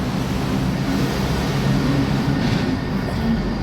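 A metro train in Pune rumbles past with a steady low roar and rolling rail noise, continuous and fairly loud, no voices.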